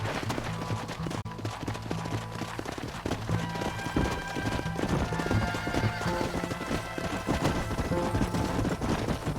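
Horses in the Red Dead Redemption video game gallop with rapid, rhythmic clip-clop hoofbeats, and sharp neighs and whinnies break in above them while background game music and effects play continuously.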